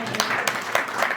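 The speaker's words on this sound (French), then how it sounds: "est-ce qu'on peut applaudir pour ça?" A short burst of audience applause at a fitness and health talk, a few distinct claps rising over the crowd noise, with a voice speaking over it.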